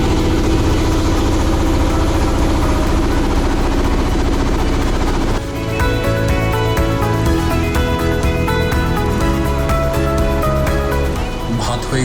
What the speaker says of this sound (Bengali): এখানে ইঞ্জিনের প্রচন্ড শব্দ।